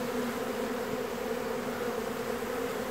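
A swarm of honey bees pours into an old wooden hive, filling the air with a dense, continuous, close buzzing drone that holds steady throughout.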